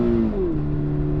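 A Toyota 86 pulls hard in second gear, its steady close engine drone stepping down sharply in pitch as a gear change goes through at high revs.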